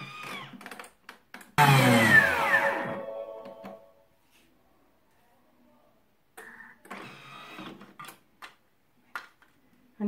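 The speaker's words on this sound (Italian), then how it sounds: "Andiamo a tritare per 10 secondi a velocità 10." A Thermomix food processor whirs loudly for a couple of seconds chopping onion at high speed, with a rising then fading motor sound, followed by quieter clicks and brief mechanical noises.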